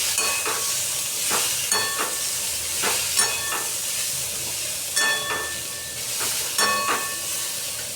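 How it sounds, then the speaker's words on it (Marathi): Spices and ingredients sautéing in oil over a medium gas flame for masala rice, a steady sizzle broken by repeated sharp scrapes and clinks of a spoon stirring against the pan. "तेलामध्ये परतून घेऊया. गॅस मध्यम आचेवर ठेवू."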